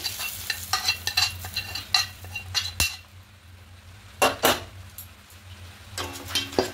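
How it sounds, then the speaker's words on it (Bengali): Chicken being stirred and mixed with fried ingredients in a kadai, with repeated close scraping and clinking strokes of a utensil against the pan over a faint sizzle, separated by short pauses. "খুব ভালো করে সমস্ত কিছু মিশিয়ে নেব।"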